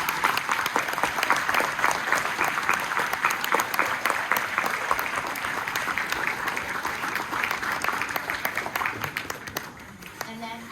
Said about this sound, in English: let's give our primary teachers a big round of applause